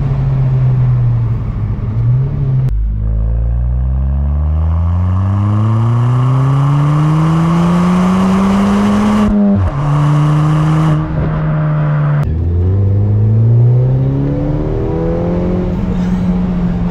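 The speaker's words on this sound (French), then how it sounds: "Et on entend la dépression aussi, là, le petit souffle." A Ford Fiesta ST Mk7.5 roars loud and close as it accelerates, its engine pitch climbing through gear changes, with a brief airy turbo blow-off whoosh between shifts before it pulls hard again.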